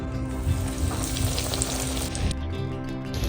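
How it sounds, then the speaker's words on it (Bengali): Bhetki fish fry pieces frying in hot oil, a dense continuous sizzle with crackling, close and steady throughout. "এখানে চলছে ভাজা ফিশ ফ্রাই"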